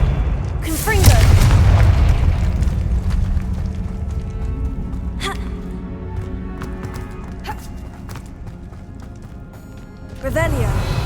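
A Confringo fire spell exploding in the video game Hogwarts Legacy, a deep booming blast with rumbling decay, followed by fainter thuds and another impact near the end, while a voice speaks.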